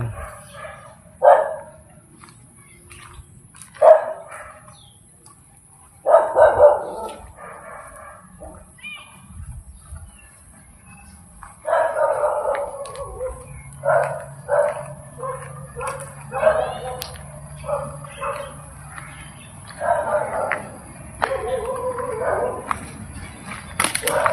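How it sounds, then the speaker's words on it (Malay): An angry dog barks in scattered bursts near an abandoned religious school hostel at night, with yips and whimpers between, while people talk quietly over a low hum. "Dog is angry."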